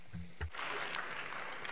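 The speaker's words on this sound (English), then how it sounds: "A round of applause" A gala audience applauds the Bester Quartet, clapping that swells after a brief thump and a moment of voice at the start, then holds steady and fairly soft.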